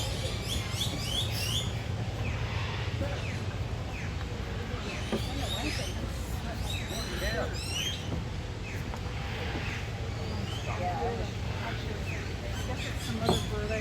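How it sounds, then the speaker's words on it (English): Many birds chirp and tweet in rapid, overlapping high calls at an animal sanctuary, fairly close and continuous over a steady low background rumble, with people talking quietly at times. "Some other bird I hear."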